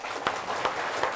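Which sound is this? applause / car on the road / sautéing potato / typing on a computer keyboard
applause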